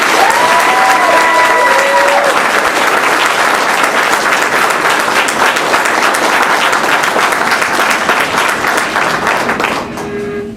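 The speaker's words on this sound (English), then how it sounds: "If everyone could please welcome me in a round of applause for all of the graduates that were here today" Sustained loud applause from an audience at a nursing pinning ceremony, dense clapping with a crowd murmur running steadily for about ten seconds before tapering off at the end.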